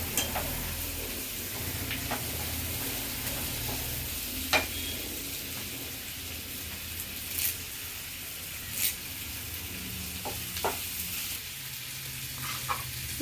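Garlic and curry leaves sautéing in a pan, giving a quiet continuous sizzle with occasional light ticks and clinks of a stirring spoon, heard close and without voices.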